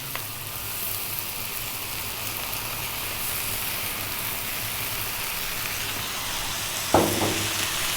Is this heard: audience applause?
no